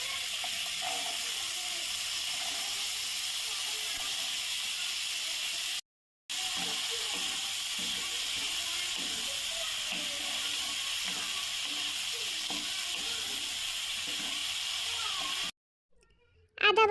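Bean seeds and dried fish are stirred in a frying pan, giving a steady sizzling hiss with scraping, clicking stirs, broken by two brief silent gaps.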